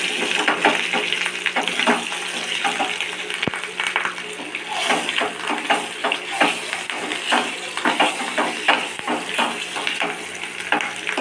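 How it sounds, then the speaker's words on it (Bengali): Eggs rubbed with salt and turmeric fry in a pan, giving a steady close crackle and sizzle with scattered pops and small clatters throughout. "লবণ আর হলুদ মাখিয়ে দিয়েছি, এটাকেই ভাজতে দিয়ে দিলাম।"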